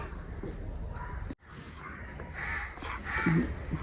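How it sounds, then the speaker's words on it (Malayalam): A crow caws outdoors over a steady chirring insect drone, a few short calls standing out near the end above the constant background hum. "കാക്ക കൂവണു"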